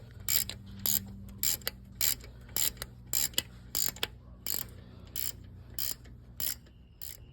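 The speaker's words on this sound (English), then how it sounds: "now we're going to remove the upper bolt on the alternator" A ratchet wrench loosening the upper alternator bolt on a Toyota Avalon, with a dozen or so quick, crisp clicking bursts in an uneven rhythm, close and clear against a quiet background.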